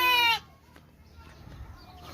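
A sheep bleats loudly and close in a village setting, one strained call that stops abruptly, after which quieter rustling and faint farm sounds follow; newborn lambs are nearby.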